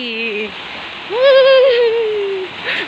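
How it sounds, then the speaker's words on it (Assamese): Heavy rain pours steadily at night during Uruka, the eve of Bihu, a constant hiss running underneath close, continuous talking. "কেনেকুৱা বৰষুণ আহি গ'ল দেখিলে জুই ফুৱাই থাকোঁতেই বৰষুণ"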